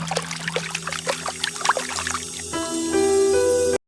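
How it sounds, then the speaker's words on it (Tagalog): Water trickles and pours indoors in a bedroom at Malacañang Palace, a close steady flowing sound with small drips, joined later by a sustained eerie tonal hum before cutting off. "nakarinig siya tila umaagos na tubig sa loob ng kanyang kwarto"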